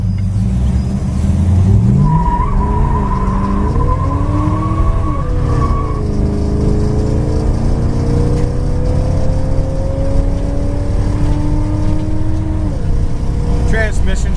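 A 1968 Plymouth Road Runner drives with a loud, steady engine drone, the pitch rising through the gears with audible shifts as it gets up to speed.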